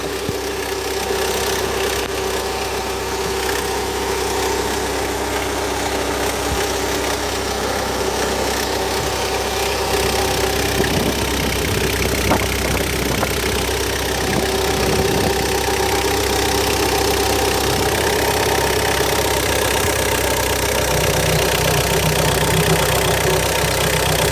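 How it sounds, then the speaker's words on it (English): A 2001 Hyundai Terracan JX250 4WD diesel SUV engine idles close by with a steady, knocking rumble that continues unchanged for the whole stretch. "The engine sounds good."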